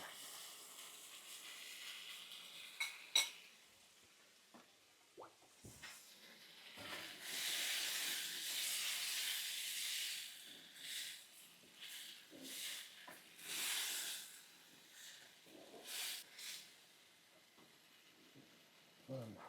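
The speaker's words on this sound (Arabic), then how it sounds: "الآن أنزل النشا مع الماء" Cornstarch and water poured into a hot pan with onions, releasing bursts of hissing, steamy sizzle that swell and fade irregularly, fairly quiet and close with gaps between.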